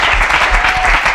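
An audience at an evening church press gathering applauds to welcome a pastor, with dense, steady clapping close by that fills the whole moment.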